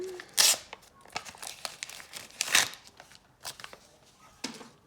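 Sharp tearing bursts of paper packets being ripped open, with rustling and crinkling in between and soft voices speaking nearby.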